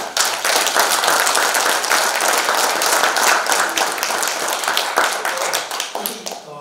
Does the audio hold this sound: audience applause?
yes